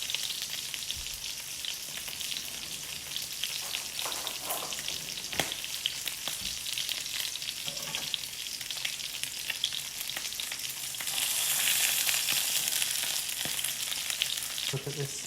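Duck breast fat searing in a pan over a gas flame, a steady close sizzle and crackle throughout that swells louder toward the end.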